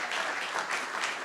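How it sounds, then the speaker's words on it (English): An audience at a business venture competition applauds steadily in a large room, a dense wash of many hands clapping at even volume throughout. "please stand up for a warm round of applause"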